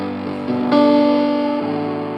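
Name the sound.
piano played with distortion effect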